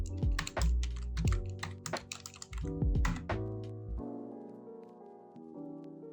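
Rapid typing of code on a computer keyboard, irregular bursts of close clacking keys for several seconds, then the keystrokes stop and a low hum remains.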